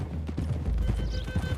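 Horses gallop across open ground toward hills in Red Dead Redemption 2, a dense, continuous drumming of hooves under steady low rumble, loud and close throughout.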